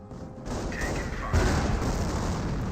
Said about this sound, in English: And now here comes another Calliope Barrage